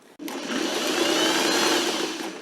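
A sewing machine stitches a twice-folded hem on a shirt, a steady close motor whir starting abruptly and running continuously, with no talking.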